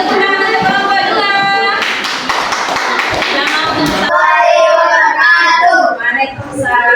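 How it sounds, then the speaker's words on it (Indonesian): A group of people claps for a class group about to present, short bursts of clapping and tapping in the middle, with voices talking before and after. "Tepuk tangan untuk kelompok 2."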